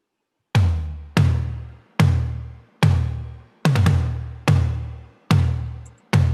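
Deep resonant sampled tom drums from an Abbey Road library played alone, about nine strikes in an uneven pattern, each booming and decaying, one quick flam near the middle.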